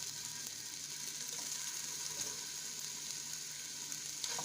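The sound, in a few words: meatballs frying in olive oil in a pan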